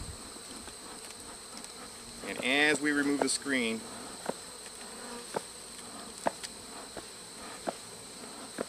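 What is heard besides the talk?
honeybees buzzing at an opened Warre hive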